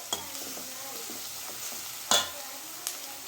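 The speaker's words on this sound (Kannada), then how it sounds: "ಈರುಳ್ಳಿ ಫ್ರೈ ಆಗ್ತಾ ಇದೆ ನೋಡಿ." Onions soften in oil in a pan for a chicken liver gravy, with a faint, steady sizzle broken by a few brief spatula scrapes and stirs up close.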